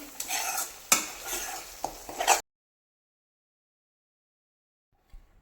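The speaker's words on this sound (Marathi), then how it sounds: "इथे एक याचे फ्लेम मी लो केले आहे हे सगळं मिक्स करून घेण्यासाठी" Masala for an Afghani egg curry frying in a pan over low flame, heard as a short burst of close stirring scrapes and sizzle before the sound cuts to near silence.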